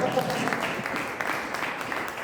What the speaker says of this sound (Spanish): Es un fuerte aplauso a ustedes.